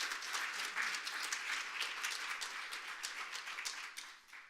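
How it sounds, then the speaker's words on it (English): Applause from an audience at a tech talk on AI-driven data management, a steady patter of many hands clapping that gradually thins and fades out at the end. "Please, round of applause."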